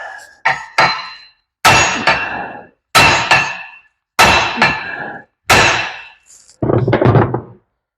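Close, loud hammer blows on a wheel stud bolt on the rear axle of a 1969 Dodge Super Bee: six or seven sharp metallic strikes, spaced about a second apart, each ringing briefly before silence.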